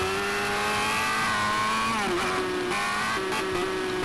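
A new motorcycle flat out past 200 km/h, its engine a loud sustained high-pitched whine with steady harmonics and a brief pitch dip midway, drowned in wind roar, close and constant without talk.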